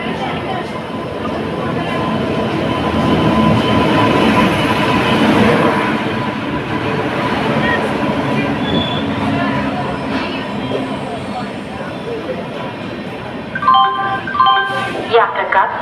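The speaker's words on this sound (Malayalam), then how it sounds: "train number 163-12 Thiruvananthapuram north Shri Ganganagar express Thrissur station രണ്ടാമത്തെ പ്ലാറ്റ്ഫോമിലേക്ക് എത്തിച്ചേർന്നിരിക്കുന്നു" Sreeganganagar Express pulls in at Thrissur railway station, platform two, at night: a long, loud rumble of rolling carriages and clattering wheels that swells and then eases. Near the end a brief electronic chime cuts in.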